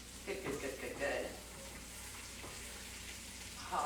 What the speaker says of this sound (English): Oh, sizzle.